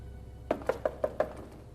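Knuckles rap on a door five times in an even, quick rhythm, each knock a sharp, hollow thud, close and clear against a quiet room.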